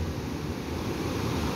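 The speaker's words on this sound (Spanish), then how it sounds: "Unas olas muy, pero muy tremendas." Ocean waves on the beach at Monterrico, Guatemala, a steady, dense roar of surf that holds constant throughout, with no voices.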